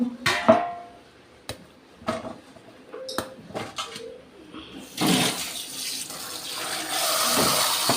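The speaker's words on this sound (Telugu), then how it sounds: "ఇప్పుడు మనం బీరకాయని శుభ్రంగా కడిగేసుకొని" A ridge gourd is rinsed under a kitchen tap. A few scattered knocks and clatters come first, then running water gushes steadily and fairly loudly over the last few seconds.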